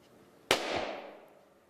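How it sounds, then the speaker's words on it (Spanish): A balloon bursting indoors: one sharp loud pop followed by a reverberant tail that rings off the room walls and fades over about a second. "Ese fue el sonido del globo y luego los rebotes en las paredes del sonido del globo que volvió al micrófono"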